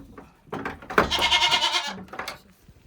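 Goats on a village farm bleat loudly and close by, one long wavering call in the middle framed by shorter bleats before and after, with no talking.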